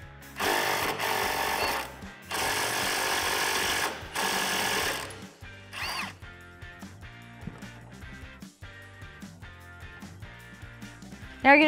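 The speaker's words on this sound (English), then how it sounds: "you're gonna need a 16 millimeter socket and a 15 millimeter wrench to hold this part" A 16 mm socket tool removing the sway bar end link nuts on a 2006-2018 RAM 1500 4WD: several long, loud buzzing mechanical bursts, then quieter intermittent clicks and metallic clinks.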